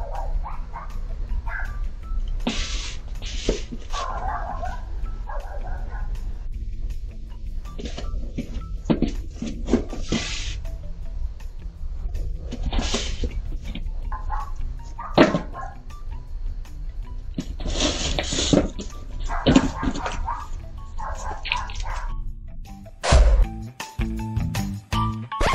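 A dog barks in short sharp bursts separated by quieter whimpering and whining, moderately close, with background noise between the barks.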